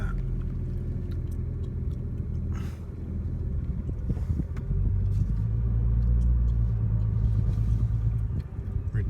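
A 2016 Nissan Nismo N-Attack GT-R drives with a steady, loud low engine rumble and road roar that swells and deepens midway through, heard from inside the car with no talking.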